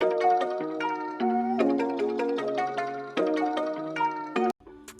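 The Palace melodic sample loop, pitched up 400 cents, rings out with chiming plucked notes over held chord tones, cycling steadily and loud before cutting off sharply near the end, with no one talking.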